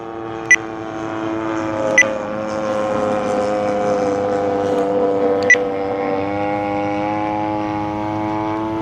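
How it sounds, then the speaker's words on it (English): Gas engine of a 35cc Seagull Models Gilmore Red Lion Racer RC plane, powered by a Stinger 35, drones steadily in flight at a fairly loud level, with a few brief high beeps from the radio transmitter. "So we're flying this with a Stinger 35 for power."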